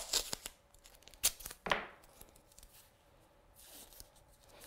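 Tape is ripped off a roll in a quiet studio: several short, sharp tearing rips close by, with one longer tear in the middle and softer rustles between them.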